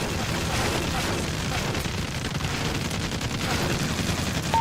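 Dense, continuous gunfire in a video game shootout, a steady loud rattle of shots layered over one another with no pauses, like sustained automatic fire.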